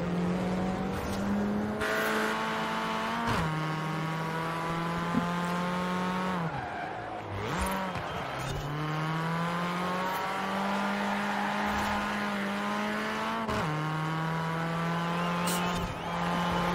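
A Ford Escort Cosworth racing and overtaking in the video game Forza Horizon 4: a steady, sustained engine drone that dips on gear changes and rises again, with brief tyre squeals, loud and continuous with no talk.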